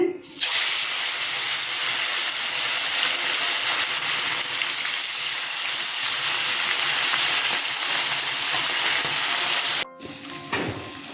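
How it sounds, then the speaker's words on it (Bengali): Sarputi fish sizzle loudly in hot oil, a dense, continuous hiss heard close up for about ten seconds before it abruptly drops, leaving softer sputtering at the end. "তেল গরম হয়ে গেছে মাছ ছেড়ে দিচ্ছি"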